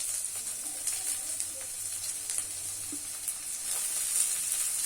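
Onion, green chilli and ginger garlic paste sizzle steadily in hot oil in a pan for idli manchurian, a continuous close frying hiss with a few faint stirring scrapes.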